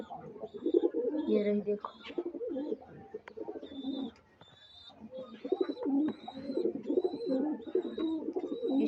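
A pair of pigeons, a male and a very white female, coo in low throaty rolls near and far, under a man's speech, while a repeated high electronic chirp sounds in the background.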